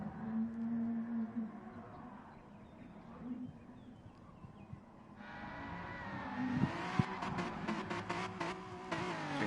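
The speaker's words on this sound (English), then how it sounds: "Edge here just doing some donuts on the runoff area at the second chicane" A BMW M4 race car in Gran Turismo Sport spins donuts on a runoff area beside a chicane, its engine droning, then revving hard and rising in pitch, while a commentator talks over it.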